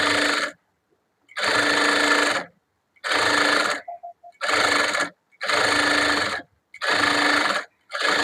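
A sewing machine stitches a blouse lining in loud, close bursts of rapid mechanical whirring. Seven runs of about a second each are separated by short pauses, with a faint click during one gap.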